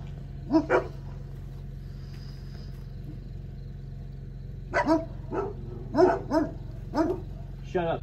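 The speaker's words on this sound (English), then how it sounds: "Stupid dog." A dog barks outdoors on a breezy day, with one short pair of barks early, then a series of spaced single barks later, moderately close over a steady low hum, with no talking.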